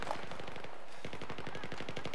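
Rapid automatic gunfire from Battlefield 3 rattles in quick, evenly spaced bursts that run almost the whole time, loud and close, with a near-continuous chain of sharp shots.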